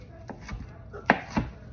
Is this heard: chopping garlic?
yes